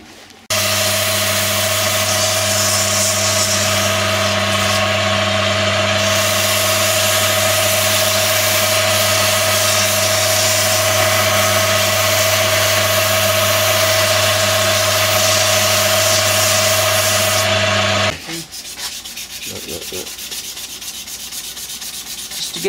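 Sandpaper rubbing steadily against a spinning wooden pen blank of she oak or bull oak on a lathe, a loud continuous hiss over the motor's steady hum, running unbroken for about eighteen seconds before it stops and only quieter workshop noise remains.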